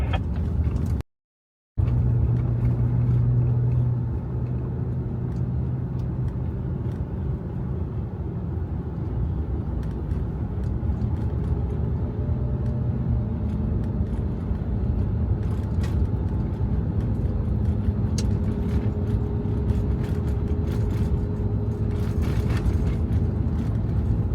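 Overland vehicle driving along a dirt trail in Wyoming, a steady low engine drone and rolling road rumble that carries on without a break, with occasional faint rattles and clicks on top.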